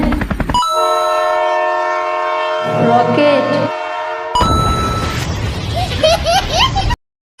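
Train sound effect: a loud, sustained multi-tone train horn blast that breaks off briefly, then heavy rumbling and clattering of a passing train before an abrupt cut.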